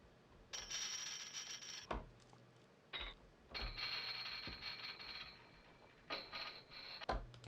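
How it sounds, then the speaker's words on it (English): Gritty mechanical Foley-style clicks and ratcheting bursts from a hybrid synth preset, coming in several short separated clusters with sharp metallic transients and brief gaps between them. "Okay, so that's like some Foley sound."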